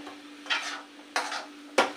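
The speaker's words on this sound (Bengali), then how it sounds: "চটকে নিয়ে কড়াইতে দিয়েছি, দিয়ে একটু নাড়াচাড়া দিয়ে একটু আটালো আটালো মতন হবে।" A sticky sugar and coconut mixture for kuli pitha is stirred in a wok, three distinct scraping strokes of a spatula over a faint steady sizzle, close and without talk.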